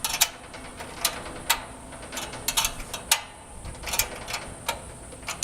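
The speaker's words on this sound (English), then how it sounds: "Close-in wrench to get this off of here." Ratcheting clicks from a 1/4 inch close-in wrench loosening a fastener on a Carrier AC condenser contactor, heard as irregular sharp ticks and short bursts, close and fairly loud, with no talking.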